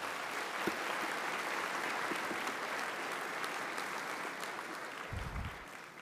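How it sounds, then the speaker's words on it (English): An audience at a college convocation ceremony claps continuously in dense, steady applause, tapering slightly toward the end, with a low thump near the close. "Let's give our faculty and staff a round of applause, please."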